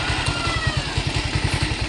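A motorcycle engine idles steadily right after a single kick start, a close, loud low-pitched putter with an even rhythm running through the whole moment.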